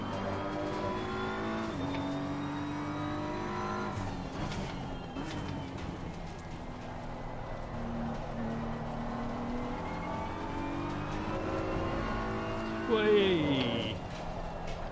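A race car engine roars in Assetto Corsa Competizione during an online lobby race on worn tyres with little grip, holding a steady loud drone with shifting pitch and a brief tyre squeal near the end.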